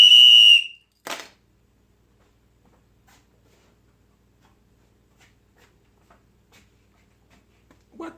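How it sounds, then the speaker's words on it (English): A referee's single loud, shrill whistle blast rings out at the start, followed by a brief second burst, then near silence with faint scattered ticks. "my whistles are friggin' loud on the field"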